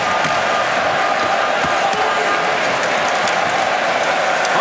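Swedish and Austrian ice hockey fans clap and cheer at a world championship game between Austria and Sweden, a dense, steady wash of crowd applause filling the arena.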